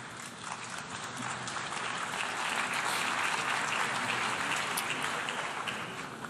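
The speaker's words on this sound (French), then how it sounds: "Je vous remercie pour vos applaudissements" Sustained, dense applause from an audience after a political speech about development aid, steady and full for several seconds before easing slightly at the end.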